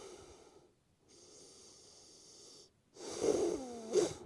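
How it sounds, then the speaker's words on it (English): Slow nasal breathing during a relaxed yoga class, a soft airy inhale and exhale followed by a louder, rougher snorting breath through the nose, close and alone. "Breathing through the nose."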